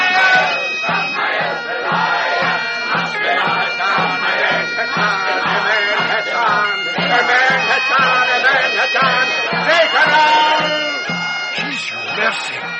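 A crowd chants together in a solemn pagan rite in a Scottish wood, voices calling on demons in steady, rhythmic, overlapping cries that carry on throughout as a dense, continuous mass of sound.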